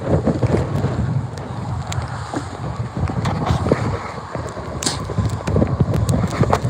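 Wind blowing hard across a fishing boat on open water, steady gusty rumble with buffeting microphone noise and light splashing throughout, no talk.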